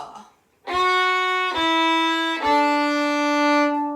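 A beginner fiddle plays the opening of Hot Cross Buns: three sustained bowed notes descending in step, each clearly separated, played alone and close after a brief count-in.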